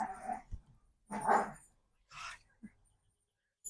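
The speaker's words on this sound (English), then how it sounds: "There's like dog fighting. Dog fighting going on right behind us." Dogs snarl, growl and bark in short bursts nearby, with pauses of quiet between the outbursts and no speech over them.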